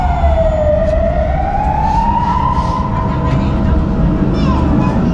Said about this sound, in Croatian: Inače, ceo dan se u gradu čuju ove sirene.